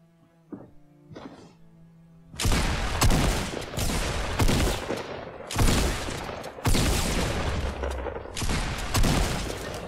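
Gunfire in Fortnite Battle Royale: after a few quiet game tones, loud rapid bursts of shots break out and continue in heavy volleys to the end.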